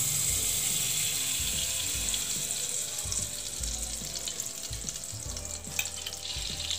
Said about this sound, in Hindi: कढ़ाई हमारी गर्म हो गई, तो इसमें हम बटर ले लेंगे,